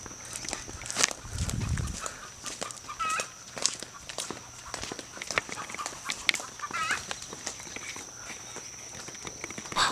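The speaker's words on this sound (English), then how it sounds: "好多雞啊！" Chickens on a Kona coffee farm on Hawaii's Big Island, scattered clucks and calls at a moderate distance amid outdoor ambience, footsteps and a brief low thump early on, with a voice speaking briefly.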